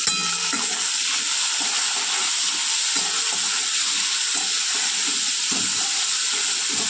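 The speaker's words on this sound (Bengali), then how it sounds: "এবার কাঁচা টমেটো আর পেঁয়াজটা দিয়ে দেবো।" Green tomato and onion frying in a pan, a dense continuous hiss and sizzle with faint stirring clinks underneath, steady and close throughout.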